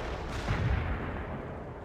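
Distant artillery strike in World in Conflict, a faint low rumble of muffled blasts swelling in the middle and then fading into a steady background roar, with no voices.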